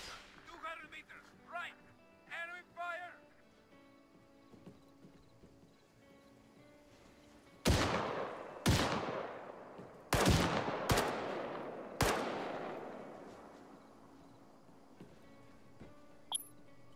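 Gunfire in the military shooter ARMA 3: after some talk, around six loud, echoing shots ring out singly at irregular intervals, each trailing off in reverberation.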